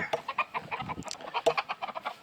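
White Polish chickens clucking close by, a busy run of short, sharp clucks and squawks overlapping in quick irregular bursts, with no talking.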